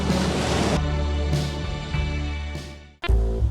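Waves break and splash against a rocky point on the shoreline, a loud surging wash that cuts off abruptly near the end before another burst of spray.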